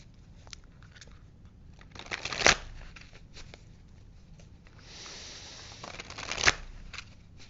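A deck of tarot cards is shuffled by hand in soft, scattered riffles and taps, with two louder riffle bursts standing out, close up and with no talking.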